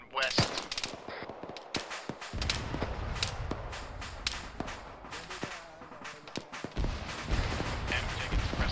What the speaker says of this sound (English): And taking suppressing fire from the wood.